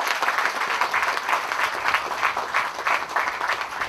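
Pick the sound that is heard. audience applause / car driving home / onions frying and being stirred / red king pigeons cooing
audience applause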